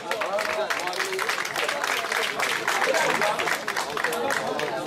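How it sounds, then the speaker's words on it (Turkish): A large cinema-event audience of football fans claps continuously in a loud, dense wash of applause, with crowd voices mixed in throughout. "Bir alkış."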